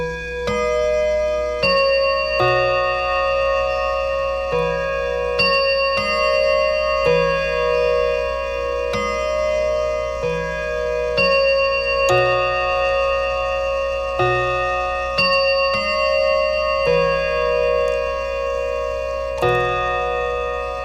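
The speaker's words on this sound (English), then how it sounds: "let this clock run for a while just to make sure that it runs correctly, still chimes correctly" A restored 1937 Revere R-530 clock movement ticks steadily and close, each tick clear and evenly spaced, with a faint ringing tone sustained underneath and no voices.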